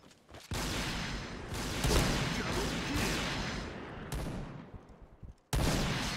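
Sniper rifle gunfire in the video game Point Blank, loud and sustained with dense overlapping shots and booms, a brief drop before a final burst.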